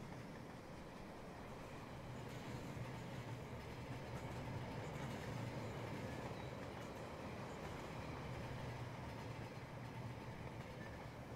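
Model trains run along the tracks in the Rolling Line video game, a steady rumbling roll of wheels that continues without a break.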